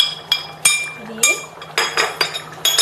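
A pot of potato curry with green chillies and garam masala is stirred, giving a series of sharp metallic clinks and taps of a spoon on the pot, with a voice talking between them.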